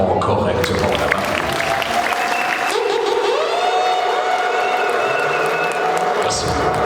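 Wedding reception guests break into loud, sustained applause and cheering that fills the hall for the whole stretch, with some higher tonal voices or sounds riding over the clapping.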